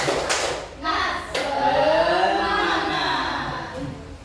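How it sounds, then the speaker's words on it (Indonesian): A group does a rhythmic spirit clap as an ice-breaker closing a school teacher-training session, sharp claps mixed with loud chanting voices, fairly close. "Tepuk semangat."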